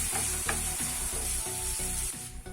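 Vegetables for egg fried rice sizzle and fry steadily in a hot pan while being stirred, with regular scraping strokes about every half second over a continuous loud sizzle.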